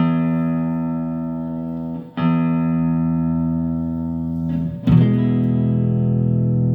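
Sustained electric guitar chords on the neck pickup through a Quilter Aviator Mach 3 amp with bass turned up, a warm, bassy tone, ringing out and re-struck twice with a scrape of attack, no voices.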